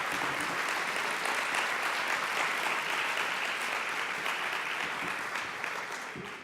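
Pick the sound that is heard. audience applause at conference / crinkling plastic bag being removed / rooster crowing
audience applause at conference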